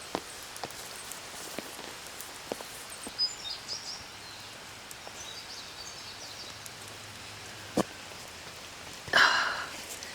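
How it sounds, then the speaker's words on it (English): Rain dripping in a vegetable garden, with scattered soft drops and light rustling over a faint steady patter, plus an occasional louder tap or brush close by. "that's why we're doing this in the dripping rain"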